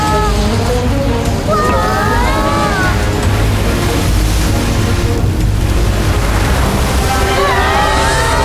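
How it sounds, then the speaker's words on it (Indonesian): Ocean waves in an animated cartoon wash and roll loudly and continuously, with a sloshing surge and faint whistling tones rising above the steady surf. "itu ombak."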